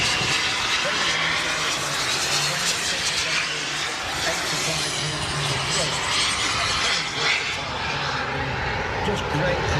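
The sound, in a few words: model aircraft flying slowly down the runway at an airshow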